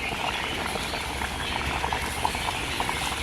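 Liquid bubbling at a steady rolling boil in a pot, a dense continuous patter of pops and gurgles, close and fairly loud throughout.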